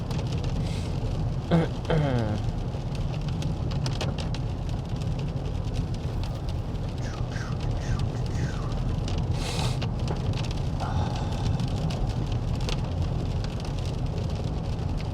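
Steady rain patters as a dense, even hiss throughout, with faint vehicle noise and occasional voices in the background.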